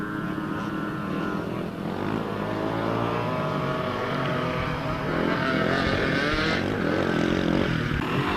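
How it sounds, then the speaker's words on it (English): A four-stroke enduro motorcycle at a 1990 two-day enduro in Rhayader runs past, its engine note rising and falling steadily and fairly loud for several seconds with no talk. "He's going well on this bike."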